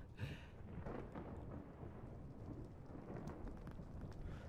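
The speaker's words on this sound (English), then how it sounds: "that is hailing" A dense, steady clatter of hail pelting down in Minecraft, continuous and fairly loud throughout, with no voices.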